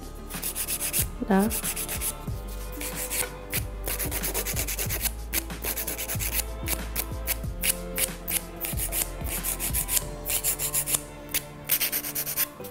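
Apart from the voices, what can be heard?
filing an acrylic nail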